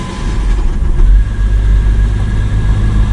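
A BMW X5 with a 3.0 engine and a misfire idles close by after starting, a loud steady low drone with a slightly uneven throb and no voices.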